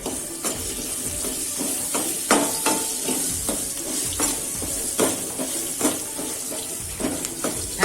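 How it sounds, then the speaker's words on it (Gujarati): Steady sizzling of gunda (glue berries) and chillies frying in oil without water, punctuated by repeated scraping clinks of a spoon stirring against the pan. "આ રીતના તેલમાં ચડવા દેવાના છે"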